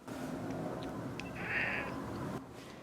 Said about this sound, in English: That's Cleo saying good morning.